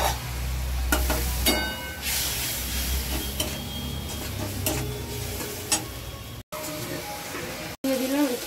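Ground cumin, coriander and turmeric sautéed with a little water and grated tomato in a pan, giving a steady sizzle with stirring scrapes and a few sharp clinks, while a voice talks over much of it.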